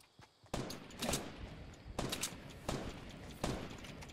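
Gunfire in a Fortnite Battle Royale squads match: several loud, sharp shots spaced about a second apart, each followed by a brief ringing tail over a steady background of game noise.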